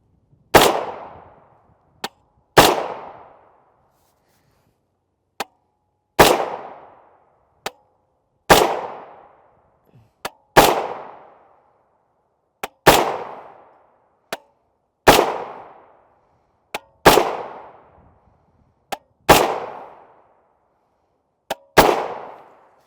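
Rifle shots from a 350 Legend firing Winchester 180 grain Power Point ammunition, about ten sharp, loud reports spaced a couple of seconds apart, each with a decaying echo, and fainter distant pops between them.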